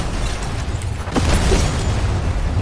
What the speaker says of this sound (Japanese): 爆発巻き込んじゃって